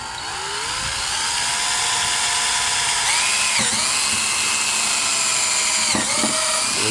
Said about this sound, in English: Drill straight through the pipe.